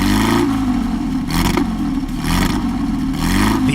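A Porsche 356 Spider with an all-aluminium engine and four-speed synchromesh gearbox revving hard, loud rising and falling blips of a mid-pitched engine in repeated bursts, close by and without talk.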